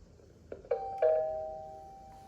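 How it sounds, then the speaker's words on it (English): An electronic camera doorbell in a Korean smart home chimes a few bright notes in quick succession, the last tone ringing out and slowly fading in a quiet room. "this is the doorbell, which has a camera and alarm"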